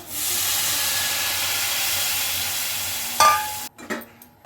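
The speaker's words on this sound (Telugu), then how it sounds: "ఇప్పుడైతే పులుసు పోసేస్తున్నా" Tamarind broth is poured into okra curry cooking in a pan, giving a loud steady hissing sizzle that ends abruptly, followed by a few scattered stirring clinks and bubbling noises.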